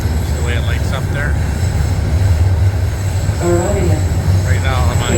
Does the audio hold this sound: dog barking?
no